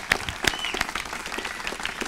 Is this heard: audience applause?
yes